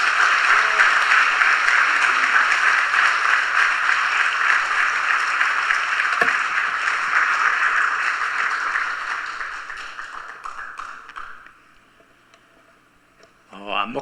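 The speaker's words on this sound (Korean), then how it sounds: "큰 박수로 모시고" Applause welcomes a speaker at a Korean church prayer service marking the 81st Liberation Day. Dense clapping holds for about ten seconds, then fades and thins out, and a brief sound comes at the very end.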